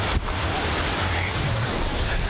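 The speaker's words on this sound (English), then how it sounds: "It's like a mountainside of waterfalls." A steady, full rushing roar of falling water at Skógafoss waterfall in Iceland, close and continuous, with no voices.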